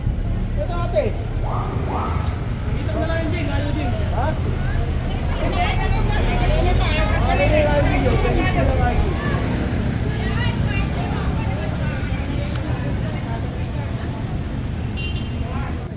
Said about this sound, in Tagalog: Ang daming motorsiklo nito.